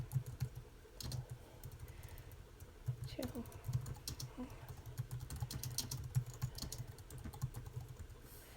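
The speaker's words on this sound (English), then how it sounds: "I'm going to just type in" Steady bursts of typing on a computer keyboard, close and fairly quiet, keys tapping in rapid irregular clusters with brief pauses.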